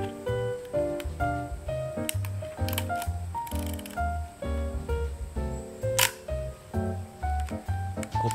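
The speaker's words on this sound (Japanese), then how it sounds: "心地よいシャッター音" A black 1973 Nikon F film SLR fires its shutter with a few crisp, sharp mechanical clicks spread across the stretch, set against steady tonal background music.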